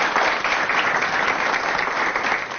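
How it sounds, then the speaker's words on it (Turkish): A studio audience applauds at a Turkish live talk show on social fears, as a student is invited onto the stage; dense, sustained clapping fills the room at steady loudness with no talk over it. "O zaman alkışlayıp sahneye davet edelim mi?"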